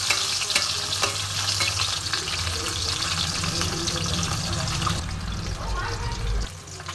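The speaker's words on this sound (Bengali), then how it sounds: "এবার আমি মাছগুলো ভেজে নেব।" Fish fries in hot mustard oil, a loud, dense crackling sizzle close by, with spattering pops and a low background hum that eases near the end.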